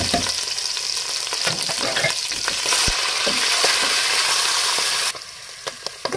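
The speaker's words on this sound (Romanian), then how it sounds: "și călesc puțin ciupercuțele." Mushrooms sizzle loudly in hot oil with occasional stirring scrapes, then the sizzle drops to a quieter hiss with a few clicks.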